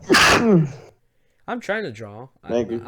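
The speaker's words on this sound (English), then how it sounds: "oh, you sneezed" A single sharp sneeze from someone at a podcast microphone, loud and close at the start, followed after a pause by two short bursts of casual speech.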